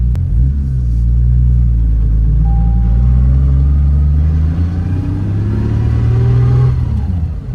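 A loud, close tuned Toyota Supra MK4 2JZ engine rumbles and revs through gear changes, its deep tone rising and settling as the car drives along, with no talking.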